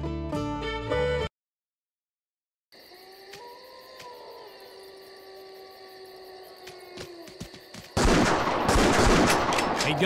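Rifle shots ring out in the Wii hunting game Buck Fever: a brief musical jingle, silence, then a tonal game soundscape broken by a couple of sharp cracks and a loud, noisy blast near the end.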